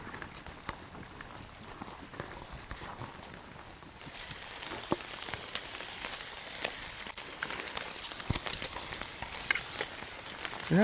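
Rain falling on a forest hiking trail on the Sioux-Hustler Trail in the Boundary Waters, a steady patter with scattered louder drops and footsteps, heavier in the second half.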